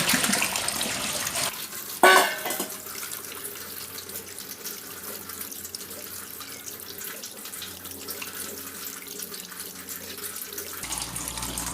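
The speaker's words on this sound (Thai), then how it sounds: "เราจะมาล้างทำความสะอาดออกล้างแป้งมันออกนะครับ" Steady running tap water splashes into a sink while marinated pork is rinsed to wash off the starch, with a brief clatter near the start and a continuous close stream throughout.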